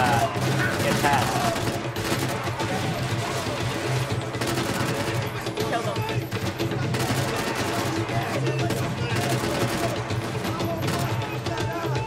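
Gunfire in the video game Max Payne 3 at a boathouse, dense bursts of shots over a continuous loud game mix, with a player talking over the action.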